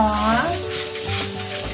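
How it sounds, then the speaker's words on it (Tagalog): Pork belly sizzles and crackles in a hot pan, a busy frying hiss with a brief tonal whine at the start. "piprito muna natin ang ating liempo"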